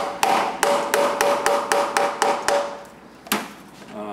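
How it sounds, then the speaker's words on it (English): A stout metal-ended chisel-type gasket scraper is tapped against a Turbo Hydramatic 400 transmission, giving about eight sharp, evenly spaced metallic knocks followed by one more after a short pause, close and fairly loud. "So you can use a little chisel, or I like this tool a lot."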